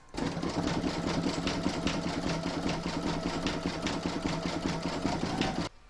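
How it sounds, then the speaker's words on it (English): An in-the-hoop embroidery machine runs a satin stitch round on a jungle animal block, a steady, loud, fast mechanical chatter with an even rhythm, alone and close, stopping abruptly at the end. "Next you're going to stitch round number 12, and that's going to do the satin stitching around here."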